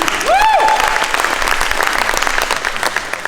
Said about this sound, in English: Give yourselves a hand this morning.